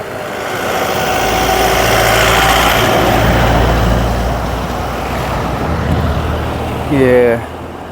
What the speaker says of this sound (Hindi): गाड़ी आने लग रही है